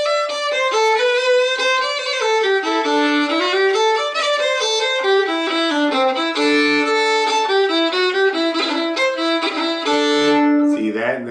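Celtic fiddle orchestra closes out the end of the reel Jenny's Welcome in rehearsal, many fiddles playing a bright, busy melody in unison with steady rhythm, loud and close throughout, with no talking over it.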